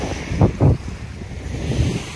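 Wind gusts across a Black Sea beach at a Sochi hotel on an overcast, rainy December day, with a calm sea's soft wash beneath two brief buffets of breeze on the microphone.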